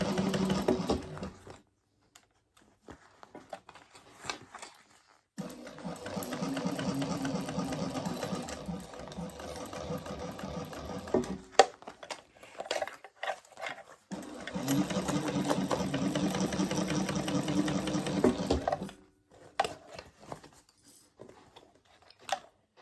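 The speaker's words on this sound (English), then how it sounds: "Just gonna slowly stitch around that, making sure it stays in place." A sewing machine stitches slowly around butter bag fabric in two sustained bursts of close, steady mechanical whirring, separated by quiet gaps with small handling clicks and fabric shuffles.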